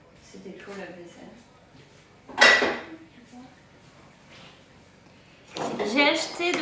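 Dishes and cutlery clatter nearby in two loud bursts, one brief and one longer, with soft speech and quieter kitchen sounds between them.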